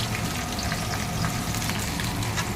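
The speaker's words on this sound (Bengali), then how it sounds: "আলুতে ভেজে নিই ভালো করে।" Potatoes fry in hot oil in a home kitchen, a loud continuous crackling sizzle with fine popping, steady throughout with no talking.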